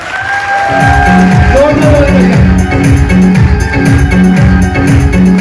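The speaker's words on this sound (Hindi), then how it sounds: "मैं चाहूंगा अपनी टीम के लिए एक बार जोरदार तालियां" A crowd at a club event applauds and cheers for the team in loud, rhythmic waves of clapping, with whoops and a voice speaking over it.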